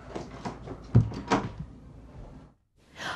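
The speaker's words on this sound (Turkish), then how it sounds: "Sen kapat kapıyı, kapat hadi." A door is pushed shut with a couple of soft thuds and a firmer closing knock, followed by a brief silence and then a faint rustle.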